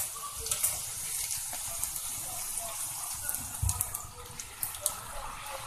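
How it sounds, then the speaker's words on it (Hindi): Semolina (suji) puris for pani puri frying in hot oil in a kadhai, giving a steady, soft bubbling hiss with a few sharper pops, fairly quiet. "वैसे तो एक एक करके इसको तलना चाहिए"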